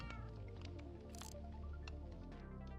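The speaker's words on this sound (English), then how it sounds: "Hi, kitty cat." A house cat gives a faint meow among soft wet squishy and dripping noises over a steady low hum, with no voices.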